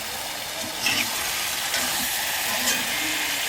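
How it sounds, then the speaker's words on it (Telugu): Chicken fries in a cast iron kadai with a steady, close sizzle and a few stirring scrapes, continuous and fairly loud throughout with no talking. "కాస్ట్ ఐరన్ కడాయి అయితే నేను కుక్ చేస్తున్నాను"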